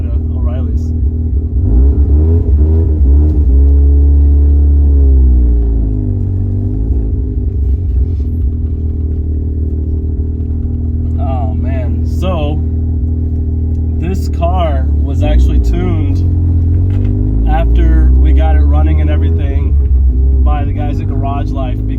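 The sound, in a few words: Mazda RX-7 rotary turbo car driving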